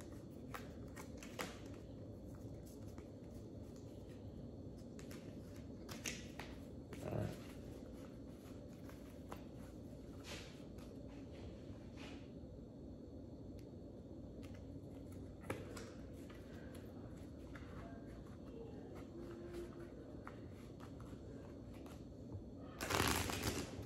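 Tarot cards being shuffled during a love reading, a quiet, steady riffling and sliding of cards with occasional soft taps and a louder shuffle at the end.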